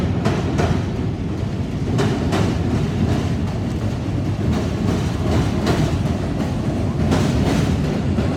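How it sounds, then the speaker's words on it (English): Train running on a railroad along the south branch of the Chicago River, a steady loud rumble with rhythmic clickety-clack of wheels on track throughout. "the railroad is running along us all the way down the south branch of the river"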